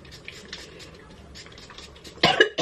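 Two quick coughs from a woman spraying her hair with a water mist bottle, loud and close after a stretch of faint rustling room noise.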